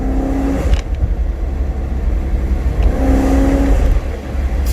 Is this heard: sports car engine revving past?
yes